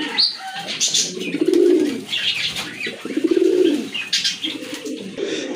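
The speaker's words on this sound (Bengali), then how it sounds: "এখানে কিন্তু আরেক জোড়া রেসার কবুতর আছে।" Racing pigeons cooing close by, several rolling, throaty coos rising and falling in a slow rhythm, with light chirps and rustles between them.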